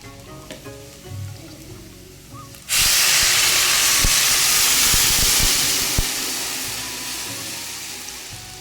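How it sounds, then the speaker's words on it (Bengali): Water poured into a hot pot of vegetarian khichuri erupts into a sudden loud, sustained hissing sizzle that slowly fades, following a quieter stretch of light frying. "এবারে জল দিয়ে দেবো।"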